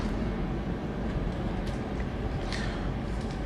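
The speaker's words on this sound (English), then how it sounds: "That's a loud train." A steady, loud low rumble and rattling roar fills the scene without pause, like a heavy train rolling past close by.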